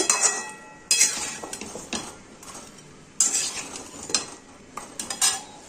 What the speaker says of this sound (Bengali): আর এর মধ্যে দিয়ে দেবো এই চিংড়ি মাছগুলো। ভালো করে মিশিয়ে নেব।